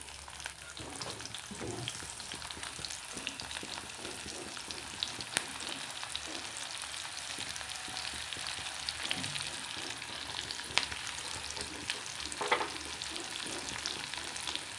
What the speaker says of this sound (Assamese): মাছ ভজা তেলতে মই এতিয়া পিঁয়াজ দিম।